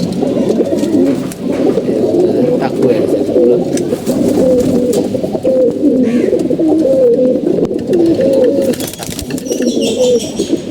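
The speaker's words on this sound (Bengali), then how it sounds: "আরও আছে চার পাঁচটা কবুতর" Several pigeons coo continuously in a low, throaty chorus, close by and steady throughout, with occasional faint background noises and no clear talk; the birds are being kept for feather loss and bald patches.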